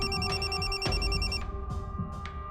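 A telephone call on speakerphone rings with a repeated electronic ringtone, warbling bursts through a small speaker that sound slightly distant over low room noise, then trail off.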